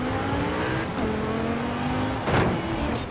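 A race car engine drones steadily in Forza Horizon 4, a continuous mid-pitched hum that holds throughout with a brief louder surge near the end.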